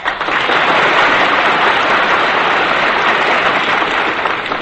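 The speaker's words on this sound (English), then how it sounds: "I love to hear applause." A studio audience at a radio comedy show bursts into steady, dense applause that holds evenly loud for several seconds without any voices over it.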